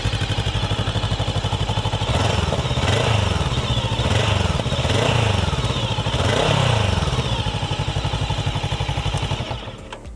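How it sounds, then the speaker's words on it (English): A Voge DS500 500cc motorcycle engine starts and idles with a steady, throaty putter, revving up a few times before settling and cutting off at the end. "It simply sounds like a full-fledged big motorcycle, and that's great."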